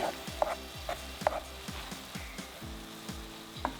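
Scrambled eggs stirred into cauliflower fried rice in a hot pan, a spatula scraping in a steady repeating rhythm with small clinks over a continuous close frying sizzle.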